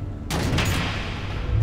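Missiles explode in a Batman video game, a sudden loud blast that erupts into a broad, roaring burst of explosive noise and then sustains as a heavy rumble.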